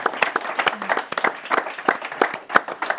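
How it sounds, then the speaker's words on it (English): A small audience claps at a conference Q&A session in London, giving brisk, uneven applause that is close and moderately loud and fades slightly toward the end, with no talking. "Give her a big round of applause"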